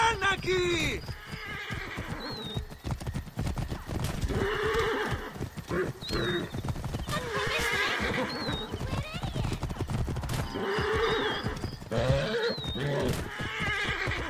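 Horse neighing in the video game Assassin's Creed Origins, several high whinnies over clip-clopping hooves and busy action noise, with voices talking throughout.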